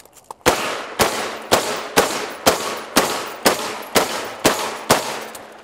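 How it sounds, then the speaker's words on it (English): Gunfire from a shooting drill at multiple targets: ten sharp, loud shots at a steady, even pace about half a second apart, each ringing out briefly before the next. "we're gonna shoot again"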